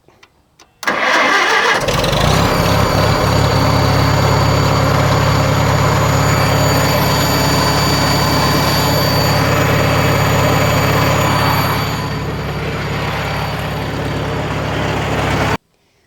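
A 1948 Farmall M tractor engine, fresh carburetor fitted, cranks briefly and catches, then settles into a loud, steady idle that runs for about fifteen seconds with a slight drop in level near the end.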